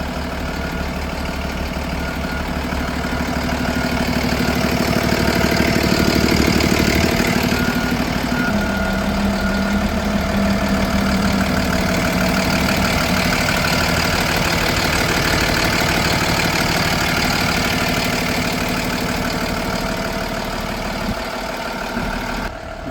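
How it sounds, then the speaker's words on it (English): A 2020 Freightliner M2 box truck with liftgate and about 210,000 miles idles steadily for over twenty seconds, a close, even diesel rumble with no talk over it. "Let me show you the engine right now."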